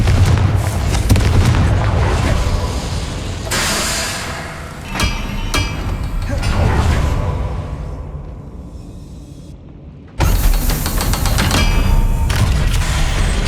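Confringo fire spell blasts in Hogwarts Legacy on PS5: loud booming explosions and impacts pile into a dense, continuous roar, dip and fade for a moment, then a sharp new blast brings the full din back.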